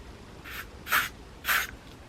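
Two short, close hissing bursts from a sun cream aerosol spray, with a fainter puff before and after, against a quiet background.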